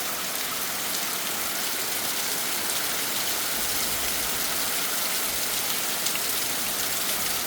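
Heavy late-summer downpour, a dense, steady roar of rain drumming on surfaces, loud and unbroken with no voices.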